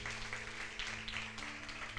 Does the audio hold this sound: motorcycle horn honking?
no